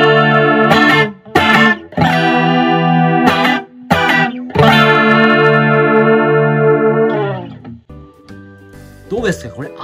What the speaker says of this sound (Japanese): 次は JC40 のコーラスモードのマニュアルにしてですね、レイトとディープ同じようにしてねサウンド聞いてもらいましょう